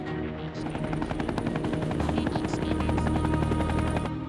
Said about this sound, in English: Why is there a helicopter out there?